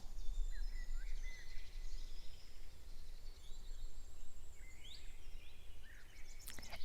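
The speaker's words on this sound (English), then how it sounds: "Listen to the birds." Birds sing in an outdoor natural setting, with scattered high chirps and short warbling phrases over a soft background hiss, fairly faint and distant, and no voices present.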